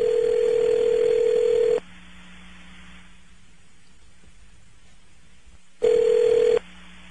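Telephone dial tone after a caller hangs up: a loud, steady electronic tone holds for nearly two seconds, drops to a low hum, then returns briefly near the end.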